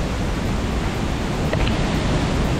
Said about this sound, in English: The waterfall.